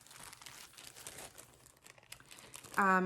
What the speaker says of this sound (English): Everything comes in this plastic bag